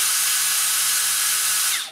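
A Makita 18V cordless belt sander whines at its highest speed, a loud high-pitched steady buzz that cuts off abruptly at the end.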